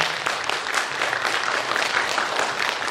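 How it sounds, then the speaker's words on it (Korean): An audience at a novelist's book concert claps for students in a steady wash of applause filling the short stretch, moderately loud and without speech. "박수 한번 주셨으면 좋겠습니다."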